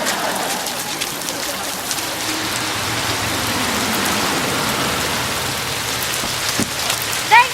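Rain drums steadily on a car close by, a dense even patter with occasional louder drops.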